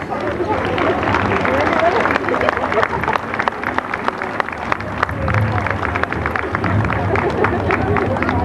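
A parade crowd applauding an emergency volunteer group, dense sustained clapping with crowd noise and a voice over it, fairly loud and continuous.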